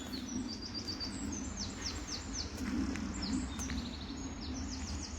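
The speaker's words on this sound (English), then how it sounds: "You hear the birds?" Small birds sing and chirp in a park with repeated quick trilling phrases, fairly faint and a bit distant, over a soft low rumble of background noise.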